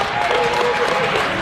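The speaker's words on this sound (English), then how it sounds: "York Suburban crowd starting to feel it here" A York Suburban crowd at a boys high school basketball game against Eastern York applauds and cheers in a steady, dense wash of clapping, with a commentator talking over it throughout.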